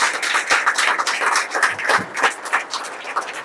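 An audience claps at a family club presentation, with dense, fairly even clapping from many hands that holds at a moderate level without letting up.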